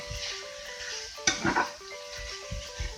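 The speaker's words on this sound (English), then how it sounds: "You just want to brown this mince," Minced beef browns in a hot pan for a cottage pie, sizzling steadily while a spatula scrapes and breaks it up, with a louder burst of stirring near the middle.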